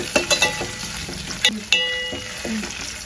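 Ginger garlic paste frying in oil for Nellore-style fish curry, a close sizzle broken by sharp scraping and clinking stirs of a spoon against the pan.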